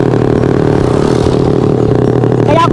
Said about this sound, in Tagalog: yung tunog ng mga motor na dumadaan dito, parang chainsaw